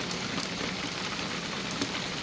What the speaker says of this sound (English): So as you can see, we've got a nice rainy evening here.